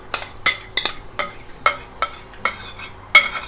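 A spoon knocks against a bowl as yogurt and garlic are mixed, giving a run of sharp, evenly spaced clinks about every half second, close and clear with no talk.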